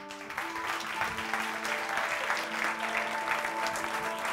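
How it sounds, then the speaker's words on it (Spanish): Audience applause at a film festival talk event, a steady wash of clapping from a crowd that holds at an even level throughout without voices. "vamos a recibirles, para quitar sobre todo mis nervios, a todos ellos con un fortísimo aplauso"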